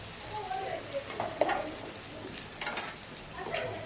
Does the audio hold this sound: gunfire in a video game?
no